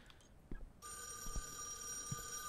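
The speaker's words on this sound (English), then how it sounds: "Where the fuck is the phone?" A telephone rings in the horror game [REC] Paroxysm, a steady electronic bell starting about a second in and holding continuously over low rumbling ambience and a few soft thuds.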